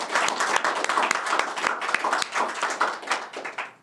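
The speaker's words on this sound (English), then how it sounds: "So if I could get a big round of applause for the museum staff." A round of applause from a civic gathering for the staff of the Oshkosh Public Museum at its centennial, brisk close clapping that thins and tapers toward the end.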